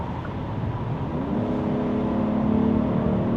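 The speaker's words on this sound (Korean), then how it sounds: "이제 중저음으로 쫙 깔리는 이 엔진 회전 질감하고 배기음을 인위적으로 전자식으로 구현을 해주는데" Hyundai Grandeur 3.5 V6 AWD with electronic active sound design produces a steady, deep synthetic engine hum that rises slightly in pitch and settles into a low drone, alone and moderately loud with no talk.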